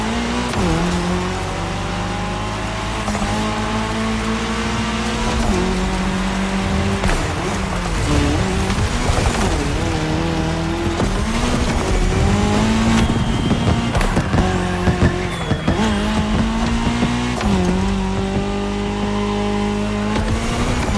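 Race cars in The Crew Motorfest roar across tarmac during a cross-terrain Red Bull Speed Clash race, engines revving and shifting continuously up and down, close and loud, with tires squealing through corners.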